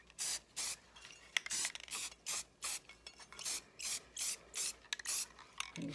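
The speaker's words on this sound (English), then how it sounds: "I'm gonna paint these bad boys right here real quick." Short hissing bursts of spray paint on metal drum smoker parts repeat in a steady rhythm, about a dozen quick sprays in a row with brief pauses between.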